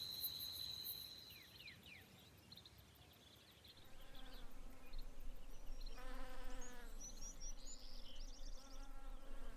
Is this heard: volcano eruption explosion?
no